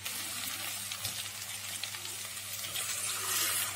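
Masala sautéing in a pan for Madurai brinjal tamarind kuzhambu: a steady, close sizzle with faint stirring scrapes running underneath, no talking.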